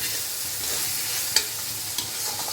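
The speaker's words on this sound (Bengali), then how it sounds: "দেখুন আমার মশলাটা ভাজা হয়ে গেছে, টমেটোগুলো একটু গলে গলে এসেছে।" Masala and tomatoes for khichuri fry in a pan with a steady close hiss and sizzle, broken by a couple of brief stirring clinks.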